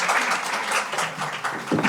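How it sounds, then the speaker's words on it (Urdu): An audience applauds at an International Women's Day seminar held by Iqbal Academy Pakistan, producing a dense, steady wash of many hands clapping throughout. "آپ سب کی بھرپور تالیوں میں."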